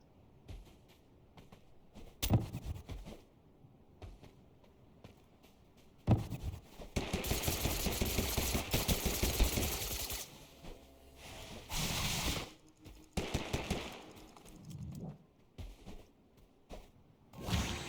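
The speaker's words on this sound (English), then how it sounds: "Why aren't they shooting at me when I'm going across?" Gunfire and explosions in a battle simulation video game, scattered bursts of rapid shots and whooshes with louder dense stretches in the middle, separated by quieter gaps, no talking.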